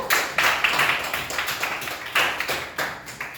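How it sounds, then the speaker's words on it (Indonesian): Classroom applause during a micro-teaching lesson for a tenth-grade class: several bursts of hand clapping from a small group of students, close and moderately loud, rising and falling over a few seconds with no talking. "Beri tepuk tangan dulu untuk Emira."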